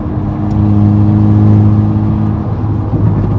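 A straight-piped, catless 300 hp VW MK6 GTI with a pop-and-bang tune runs at half throttle, giving a loud, steady, droning exhaust note heard up close from inside the car.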